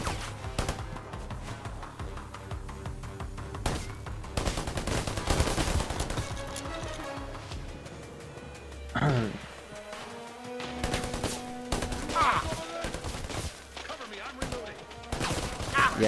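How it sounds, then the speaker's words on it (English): Bursts of automatic gunfire and scattered shots in the Predator: Hunting Grounds video game, loud and rapid, with voices talking over parts of the firefight. "he's just gonna crouch there and just get shot at"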